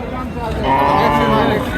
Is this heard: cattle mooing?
yes